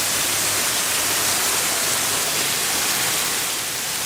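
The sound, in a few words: waterfall in the KL Bird Park aviary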